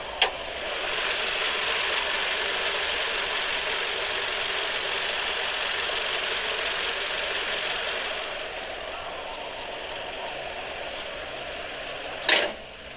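A car engine runs at a steady idle during an engine check, a constant close mechanical hum and rattle that softens slightly partway through, with a sharp click near the end.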